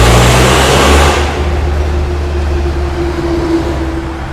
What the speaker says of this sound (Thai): การทดสอบระบบที่เราจะไล่เกียร์ไปนะคะ เกียร์ระบบเกียร์ใช้ทำงานปกตินะคะเ ครื่องปกติแล้วก็ระบบเบรกนะคะ